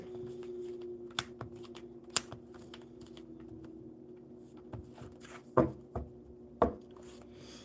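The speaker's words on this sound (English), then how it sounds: "We'll get these shuffled up." A deck of playing cards is shuffled in short bursts, crisp riffling and tapping clicks scattered over several seconds, close and quiet with no talk.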